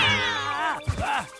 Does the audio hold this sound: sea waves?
no